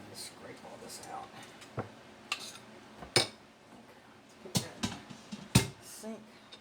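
Spiral sweet potato gets scraped out of an air fryer basket: scattered metallic scrapes and clinks, some sharp and close, sounding irregularly amid light background noise.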